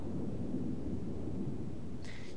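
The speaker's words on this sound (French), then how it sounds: "Il fait beaucoup d'orage." Rumbling thunderstorm in The Sims 3, a continuous low roll of thunder with rain texture, fairly quiet and steady throughout, with a faint brief higher tone near the end.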